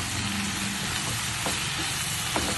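Fried beef tossed in a pan with mushrooms and broccoli, giving a steady, dense sizzle with occasional scraping stir strokes, close and continuous, with no talking.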